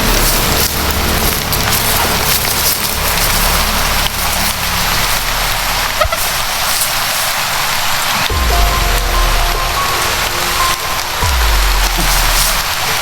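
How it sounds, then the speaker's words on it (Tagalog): Heavy rain pours steadily on a surface, a dense, loud, continuous hiss with no pauses, heard alone without talk. "Sana tol ay hindi lumakas ng ulan na to."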